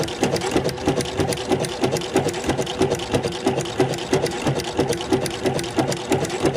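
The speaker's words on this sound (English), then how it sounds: "6 stitches and then a pleat." Sewing machine stitching with a ruffler attachment making pleats, a close, fast, steady mechanical chatter with an evenly repeating clunk pattern running the whole time.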